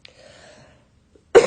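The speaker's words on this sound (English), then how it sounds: "Excuse my cough, guys." A single sharp, close cough bursts out abruptly at the end after near silence, preceded by a faint, breathy vocal sound.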